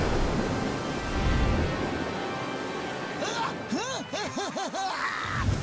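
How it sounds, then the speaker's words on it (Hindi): A cartoon waterfall rushes with a steady, broad roar that fills the whole stretch, while whooshing effects and animated voices rise over it toward the end. "सामने तो झरना है।"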